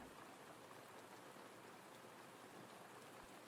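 Soft, steady rain patters evenly and quietly, a gentle continuous wash of drops with no voices.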